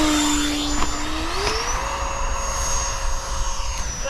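A Freewing F/A-18 Hornet 90mm electric ducted-fan RC jet on landing approach with full-span flaps gives a steady, loud whining roar. Its pitch rises partway through as the throttle is advanced, and no voices are heard.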